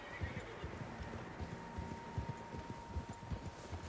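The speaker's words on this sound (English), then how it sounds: "Horses, quite a few of them." Horses in Red Dead Redemption 2 whinny and neigh while hooves clip-clop in a steady trotting rhythm, the animals sounding fairly close, with no speech over them.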